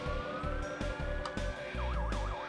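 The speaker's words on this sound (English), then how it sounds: "sirens are going off" Police sirens wail in the Watch Dogs video game, a rising and falling electronic tone with a faster warbling yelp near the end, loud and close over rumbling engine and city noise.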